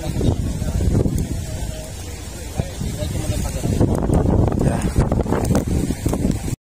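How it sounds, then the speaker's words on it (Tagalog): Strong wind gusts roar across the microphone in surges, loud and rough, with faint rustling and no clear talk. "malakas ang hangin"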